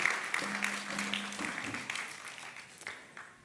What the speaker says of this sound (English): Please give her a round of applause again.